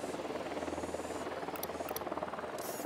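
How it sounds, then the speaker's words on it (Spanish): A drone deploying and flying in Ghost Recon Wildlands gives a steady mechanical buzz and whir that holds at a constant level for about three seconds, with brief higher hisses appearing over it. "Desplegando dron."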